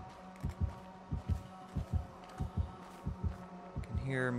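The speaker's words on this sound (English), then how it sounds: "Big heartbeat." Dead by Daylight's terror radius heartbeat thuds in loud, regular double beats about every half second over a low hum, swelling toward a rising synth sting at the end.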